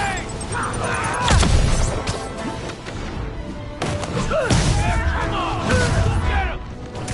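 Grenade blast in the Spider-Man PS4 video game, with heavy thuds and crashing impacts amid combat noise, two big bursts a few seconds apart, while characters shout over the action.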